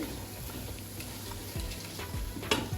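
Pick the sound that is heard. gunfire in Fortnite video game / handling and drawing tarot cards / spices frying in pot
spices frying in pot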